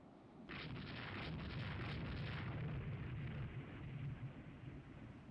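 Missiles launched in the naval game Rule the Waves 3: a loud, roaring rush of fire that starts abruptly, holds for several seconds, then tapers off.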